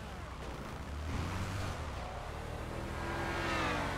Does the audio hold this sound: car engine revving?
yes